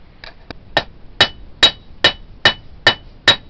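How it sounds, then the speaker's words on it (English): Hammer blows forging the cutting edge and taper of a steel English trade knife blade: about eight sharp, ringing metallic strikes in a steady, evenly spaced rhythm, close and loud, preceded by a couple of lighter taps, with no talking. "So we'll forge in the cutting edge and taper on this blade next."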